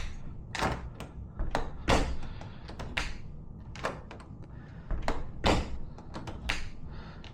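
A door outdoors opens and bumps repeatedly, giving a series of sharp knocks, clicks and latch taps spaced irregularly at close range, with faint movement between them.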